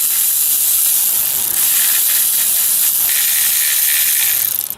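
A ratchet backs out 10mm bolts on the water pump cover of a Nissan 4.0 V6, giving a close, continuous hissing click that runs almost the whole time before cutting off at the end.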